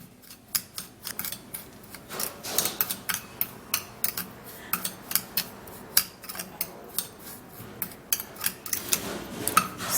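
Sugar and garlic are mixed in a bowl, with a rapid, uneven run of sharp clicks and taps from the utensil against the bowl, close and fairly quiet, and no talking.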